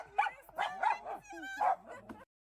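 Dogs bark excitedly in a run of close, loud yips and bow-wows with whimpering tones between them, stopping abruptly near the end.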